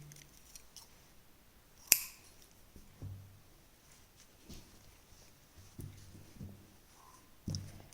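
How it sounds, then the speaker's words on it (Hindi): Scissors snip crochet thread with one sharp, close cut, followed by soft scattered handling clicks and rustles of the work in a quiet room. "धागा काट देंगे।"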